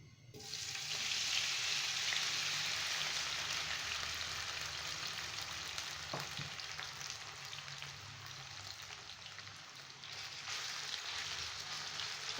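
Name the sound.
potato slices frying in hot oil in a frying pan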